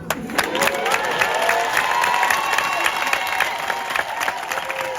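A live audience at a Congolese music show bursts into sustained applause and cheering, a thick, continuous roar of clapping and shouting voices that fills the room from start to finish.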